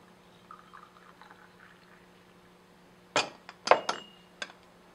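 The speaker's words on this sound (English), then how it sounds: "you serve the tea into the drink cup from your pot" HuangShan MaoFeng green tea is poured from a pot into a drinking cup, a quiet room tone broken by short bursts of pouring liquid and a few light clinks near the end.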